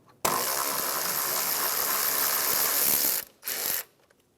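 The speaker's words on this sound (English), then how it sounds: "So what we're going to do is just back out the bolt for the AC line" A ratchet with a 10 mm socket backs out an AC line bolt on a 2007-2013 Acura MDX, giving a loud, close, continuous clicking run, then a short pause and one brief final burst.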